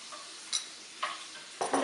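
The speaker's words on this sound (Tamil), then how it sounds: "இந்த மீனும் இந்த மசாலாவும் நல்லா மிக்ஸ் ஆகணும்" Fish being stirred into masala in a pan for a fish omelette, a few short scraping strokes with a soft sizzle underneath, close and fairly quiet with no talking.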